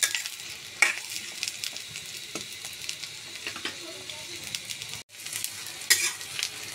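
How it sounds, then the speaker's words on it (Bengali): Three medium potatoes sizzle steadily in hot oil with onions, stirred now and then, with a brief pause near the end before the crackle resumes close and continuous. "আলুটা তেলের সাথে আর পেঁয়াজের সাথে একটু সুন্দর করে ভেজে নিব।"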